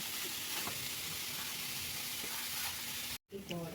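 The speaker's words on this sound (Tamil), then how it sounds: "இப்போ இந்த கேரட்டோட பச்சை வாசம் போகிற அளவுக்கு நம்ம நல்லா கிண்டிப்போம்." Grated carrot fries in ghee with cashews for a carrot and sago halwa, giving a steady close sizzle with faint stirring, cut by a brief dropout near the end.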